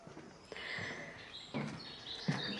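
Birdsong by small streams and a footbridge in Devon: faint, high chirps and trills drift from a distance under steady outdoor ambience and soft footsteps.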